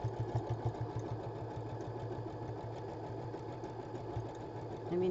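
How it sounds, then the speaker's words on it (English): A sewing machine stitches fabric in a fast, even mechanical chatter that runs steadily for several seconds, close by, with no one speaking. "just put a piece of fabric under that needle and turn it on."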